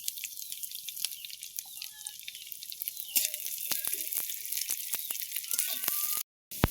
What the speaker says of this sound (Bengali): আমি রসুনটাকে লাল করে ভেজে নেব।